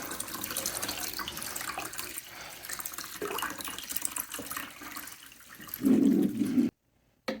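Water poured into the reservoir of a 10-pod countertop hydroponic garden, a steady broadband splash that grows louder and fuller near the end before cutting off, with no talking.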